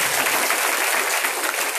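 An audience at a Srimad Bhagavatam religious discourse in Noida applauds continuously, a dense wash of many hands clapping at steady loudness throughout.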